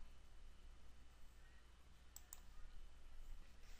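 A quiet pair of computer mouse clicks, quick and close together, sit over a faint steady room hum with nothing else going on.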